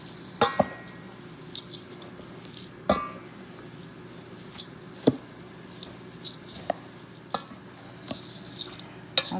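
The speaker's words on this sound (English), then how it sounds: "we're just going to stir and incorporate it all" Spoon stirring a thick superfood breakfast bar mixture in a bowl, with soft squishing and occasional sharp clinks against the dish, close and fairly quiet.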